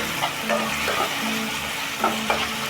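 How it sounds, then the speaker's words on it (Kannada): Chopped tomatoes frying in hot oil in a pan, a steady sizzle with a few soft stirring scrapes, close and continuous with no talking. "ಟಮಟೆ ಹಣ್ಣು ಚೆನ್ನಾಗಿ ಫ್ರೈ ಆಗಬೇಕು ಎಣ್ಣೆಯಲ್ಲಿ"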